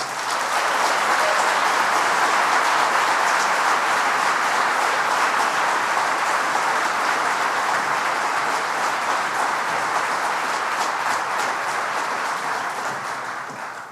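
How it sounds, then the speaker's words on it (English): A crowd at a manufacturing site job announcement gives Howard Zemsky a long, thick round of applause, steady and loud throughout before easing slightly at the close. "give Howard Zemsky a big round of applause"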